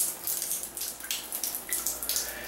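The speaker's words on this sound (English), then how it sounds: "This thing's dripping." Water dripping from a leaking shower valve, a steady run of quick splashy drips and trickles at close range, with no talk.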